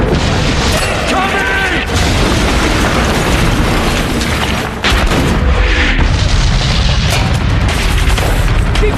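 Heavy explosions and bursts of gunfire from a war film's battle scene roar loudly and continuously, booming blasts mixed with rattling shots, with a narrator's voice speaking over the din.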